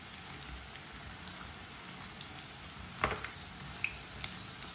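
Pakoras fry in hot oil in a pan on a stove, a soft, steady crackling sizzle with a few faint pops, continuous and fairly quiet with no talk.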